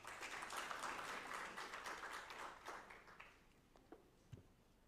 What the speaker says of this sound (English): Let's give them another big round of applause for their performance.